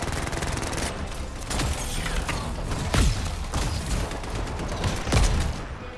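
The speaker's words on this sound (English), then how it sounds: "Seeking Missile, pretty powerful even on its own." Seeking Missile ability fire from a Ranger javelin in the Anthem video game, with a barrage of repeated launches and impacts over mechanical clanking and creaks, loud and busy throughout.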